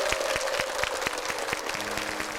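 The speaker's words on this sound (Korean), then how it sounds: "오늘 좋은 말씀 해주신 목사님께 다 함께 박수 보내드릴까요?" Church congregation applauding the pastor after a sermon, a broad steady wash of clapping from many hands with a few sharp individual claps standing out near the front throughout.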